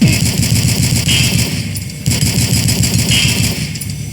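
Turrets fire guns in the video game DUSK: rapid, heavy automatic bursts pound steadily and loudly, broken by a short pause midway before the firing resumes.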